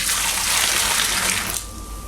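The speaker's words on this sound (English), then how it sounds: "Just turn this around and we'll pour this into our fermenter." Home-brew beer with honey poured in a steady gush into a fermenter, a loud, close, continuous splashing pour that cuts off abruptly near the end.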